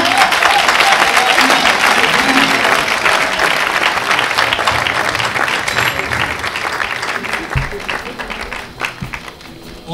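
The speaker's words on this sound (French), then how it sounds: "On les applaudit s'il vous plaît." Loud, dense applause from a crowd at an evening show, steady close clapping that slowly thins toward the end, with some cheering mixed in.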